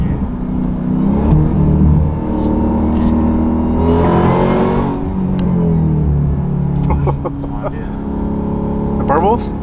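A 2023 Dodge Durango Hellcat with a muffler delete rumbles loudly and close, its exhaust revving and burbling with deep popping crackles as it shifts through gears, while people talk excitedly over it.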